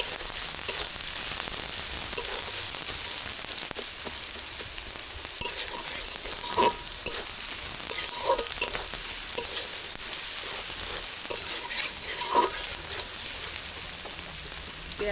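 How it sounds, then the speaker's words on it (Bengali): Chopped onion and garlic with green chillies sizzle steadily in hot oil in a pan, a continuous close crackle with occasional louder pops and stirring scrapes, no talk. "পেঁয়াজ রসুন ভাজা হয়ে গেছে"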